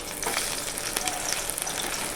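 Jute leaf fritters frying in hot oil in a wok give a steady, close crackling sizzle with brief bright pops and spatters throughout.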